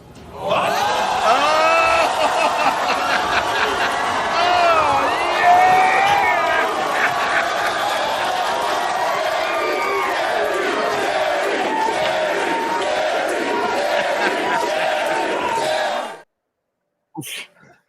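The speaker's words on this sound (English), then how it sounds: "I like it that they're cheering Jerry." A large crowd cheers and shouts continuously for about sixteen seconds, loud and sustained with overlapping voices, then cuts off abruptly near the end.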